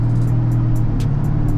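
An 1100 HP turbocharged Dodge SRT Challenger on a back road gives a loud, close, steady low engine roar under full throttle, with a hum that holds through the short burst.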